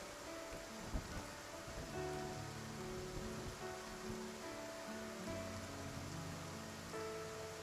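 Video game rain falls in a steady, even patter on a surface, with scattered droplet hits and a soft background of music tones, continuous throughout with no talking.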